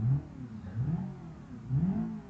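Nissan Skyline engine in BeamNG.drive heard from the interior, revving in three rising surges with steady mid-low drone between, loud and close with no talk.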